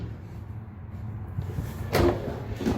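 A quiet room hum, then a soft sliding thump of a trash can drawer moving in a 2021 Jayco Pinnacle 38FLGS RV kitchen, followed by another brief knock as it closes.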